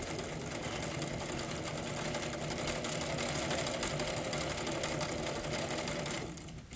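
A sewing machine stitches a shirt hem, its needle running in a fast, steady mechanical chatter at close range for several seconds before slowing and stopping near the end, with no talking.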